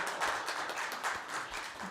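Brief applause from an audience at a city council meeting, a steady wash of many hands clapping at moderate distance with no speech over it.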